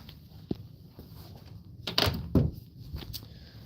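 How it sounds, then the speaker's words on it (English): A door being closed indoors near a podcast studio, heard as a couple of soft thumps and a short bump against quiet room noise. "Let me go close the door over here."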